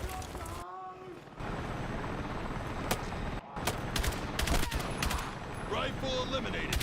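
Battlefield 6 combat gunfire: dense bursts of automatic and single rifle shots crackle close and far, with booming impacts and a droning vehicle or rushing wind beneath, and occasional voices calling out.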